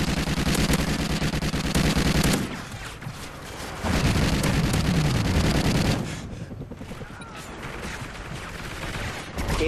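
Sustained automatic gunfire from a sentry gun in the Ghost DLC of a military shooter, loud and continuous with dense rapid bursts, a brief lull, then more heavy firing and booming combat noise.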